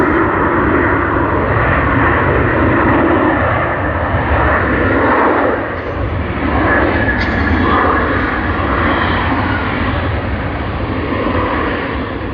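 A Cathay Pacific jet airliner in Chinese silk ribbon livery takes off at Sydney Airport, a loud sustained engine roar filling the whole stretch, dipping slightly midway before swelling again.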